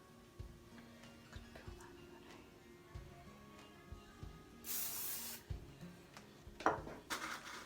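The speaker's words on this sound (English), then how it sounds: "I'm loving this wax spray" Short hissing bursts of wax spray aimed at hair during an updo styling, faint and close, with light ticking and handling sounds between two sprays.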